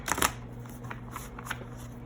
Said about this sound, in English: And we'll shuffle and take some from each.